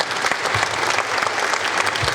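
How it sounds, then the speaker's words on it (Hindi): Loud, dense applause from an audience at a Mataji Ki Chowki devotional gathering, continuous clapping throughout with a faint voice beneath. "जोर से तालियां बजनी चाहिए"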